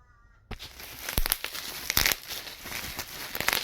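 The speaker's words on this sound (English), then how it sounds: "Don't we all just love bubble wrap?" Bubble wrap packaging around a 10 mm main cap racing girdle for an AU Ford Intech engine is pulled open: after a brief near-silence, close, busy plastic crinkling and tearing with sharp crackles runs throughout.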